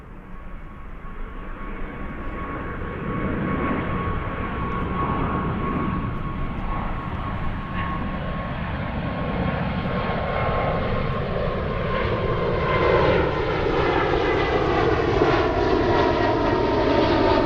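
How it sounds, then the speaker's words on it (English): A Boeing 777 landing on runway 28 at Zurich airport, its engines a loud, continuous roar that swells steadily as it approaches, with a faint whining tone running through the noise and no voices. "We have the big 777 stealing the spotlight. Coming in on runway 28."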